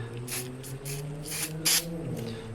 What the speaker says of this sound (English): Maybe I'll spray the accelerant onto the back